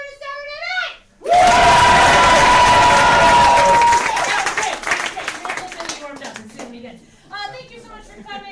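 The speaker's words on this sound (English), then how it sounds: "I want to do another big round of applause just to wake ourselves up" A Saturday night crowd at a live radio show event bursts into loud, sustained clapping and whooping that gradually thins out, with a voice speaking just before and again as it fades.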